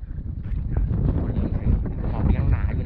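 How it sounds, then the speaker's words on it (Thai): Strong wind blowing across a fog-covered mountaintop campsite near Mulayit Taung pagoda in Myanmar, a loud continuous gusty roar buffeting the microphone, steady throughout. "ลมก็แรงด้วยนะครับ"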